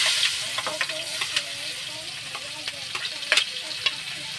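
Onions sizzle in hot cooking oil with a continuous crackling hiss, broken by sharper pops and spatula stirring clicks, close and clear.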